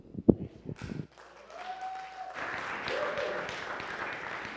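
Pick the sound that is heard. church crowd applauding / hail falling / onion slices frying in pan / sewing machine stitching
church crowd applauding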